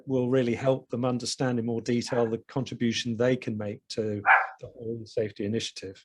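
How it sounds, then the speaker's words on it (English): A dog barks in the background, faint and intermittent beneath steady close-up talking. "Sorry about the dog in the background."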